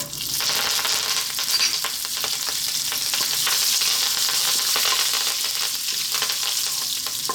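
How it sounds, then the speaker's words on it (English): A loud, continuous crackling sizzle of fresh curry leaves dropped into hot oil for an Indian bell pepper fry, with no speech. "We're now going to drop in our fresh curry leaves. This can be noisy."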